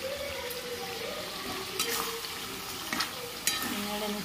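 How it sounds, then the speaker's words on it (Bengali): Chicken sprinkled with garam masala sizzles softly in a pan while a utensil stirs it, with a few scraping clinks against the metal, fairly quiet and close. "নেড়ে নিচ্ছি।"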